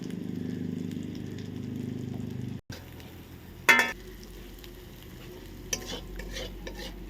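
A ground paste of chilli, ginger and cumin, with salt and turmeric, is stir-fried in a pan for a mutton leg curry. A steady sizzle breaks off abruptly and is followed by a few sharp scrapes and clinks of stirring.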